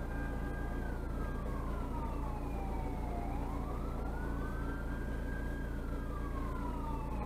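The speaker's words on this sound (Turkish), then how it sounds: "Galiba arkadan itfaiye mi geliyor?" A fire engine siren wails through steady heavy traffic on a jammed waterfront coast road during a fire, its pitch sweeping down and back up over a constant engine rumble.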